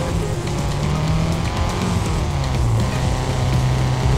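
A race car engine drones steadily in the video game TrackMania 2 Valley, a loud continuous hum with shifting pitch and faint tire noise, no voices over it.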